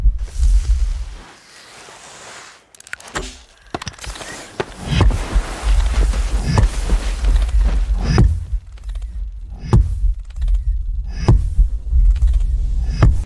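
A deep, booming rumble with heavy low thuds recurring every second or two, swelling and fading with a reverberant, otherworldly roar, a sand worm roar built from a kick drum.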